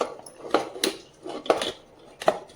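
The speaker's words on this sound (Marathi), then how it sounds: "आता आपल्याला डाळ कुकरमध्ये टाकून घ्यायची" Drained dal being tipped into a pressure cooker, heard as several sharp metallic clinks and knocks of utensil against the cooker pot, spaced irregularly and fairly close.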